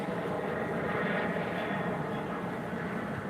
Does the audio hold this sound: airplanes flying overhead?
yes